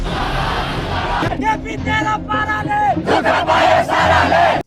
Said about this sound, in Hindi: नेपाल की राजधानी काठमांडू में हजारों लोगों की भीड़ इकट्ठी हुई थी प्रोटेस्ट करने के लिए।